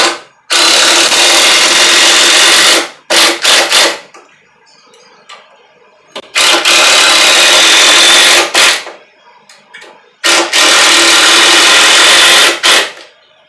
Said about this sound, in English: Put your screws in.